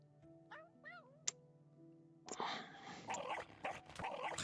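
Dog model noises in a roleplay game, a few short whines and yips early on, then a louder burst of rough barking and growling noise, fairly faint overall.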